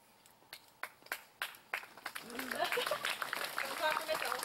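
A single person clapping a few times alone, sharp separate claps at first, then the sound thickens into a denser burst of handclaps and crowd noise with a voice over it.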